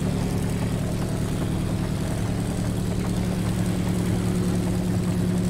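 Helicopter rotor and engine in the Stormworks video game, a steady low droning hum with a throbbing rotor beat that holds even and continuous throughout, with no voices.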